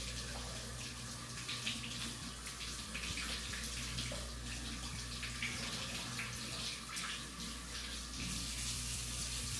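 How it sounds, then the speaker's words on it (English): Dusty potatoes get washed under a running kitchen tap, a steady hiss of flowing water heard close but faint, with light handling sounds and no talking. "So we're going to wash these potatoes because they look dusty."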